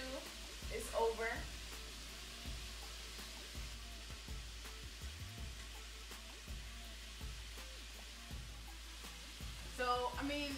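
A Ninja Foodi air fryer cooking chicken gives a steady, quiet fan-driven hiss and faint sizzle, with scattered small clicks and a couple of brief louder rattles.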